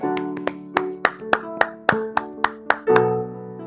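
A church congregation claps in a series of sharp, evenly spaced bursts, about a dozen loud hits ending in a fuller ovation.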